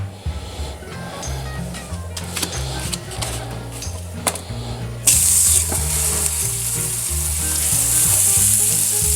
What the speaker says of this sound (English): I'm just going to sear all the sides of the pot roast here